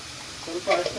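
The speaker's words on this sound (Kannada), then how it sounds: "ಹಾಕ್ಕೊಂಡು ಫ್ರೈ ಮಾಡೋಣ" Tomatoes frying with turmeric in a pan, a soft sizzle that swells briefly toward the end of a short moment, close and fairly quiet.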